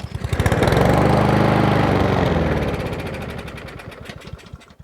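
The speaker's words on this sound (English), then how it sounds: "I'm going to spray a squirt of two-stroke mix in there and see if it'll start up" A Troy-Bilt TB130 two-stroke engine, primed with a squirt of two-stroke mix, fires up and runs in a rapid, loud buzzing rhythm, then sputters and fades as it dies down, with no talking.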